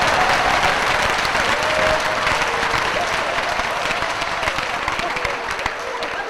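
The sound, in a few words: applause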